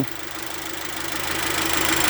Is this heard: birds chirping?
no